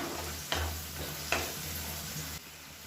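Tomato and green chillies sautéing in a pan for chutney: a gentle, continuous sizzle, close up, with two brief scraping stirs of a spatula.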